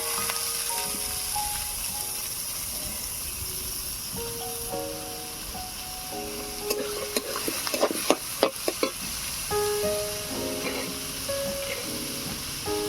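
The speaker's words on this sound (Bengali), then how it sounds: "গাজর কুচি টমেটো কুচি লঙ্কা কুচি সবজিগুলোকে এবারে ভেজে নেব" Chopped potato, carrot, tomato and chilli fry in a pan with a constant sizzle, while a spatula scrapes and clatters in a burst of quick strokes midway.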